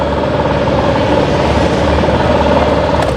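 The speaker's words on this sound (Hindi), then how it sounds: "स्कूटर में आपको साइलेंट स्टार्ट मिल रहा है" Honda 110cc scooter engine idling steadily after a silent start, a continuous close, even running hum with no other sounds over it.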